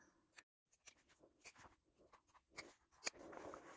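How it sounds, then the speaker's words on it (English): Scissors snip through fabric at the corners of a sewn crossbody bag flap, a string of short, crisp cuts spaced irregularly and heard up close with no talking. "take your scissors and we're just going to snip the extra material at the corners"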